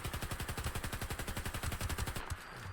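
Rapid, steady bursts of shotgun fire in a Rust hardcore zombie game, many blasts in quick succession for over two seconds, loud and close, then cutting off to quieter background.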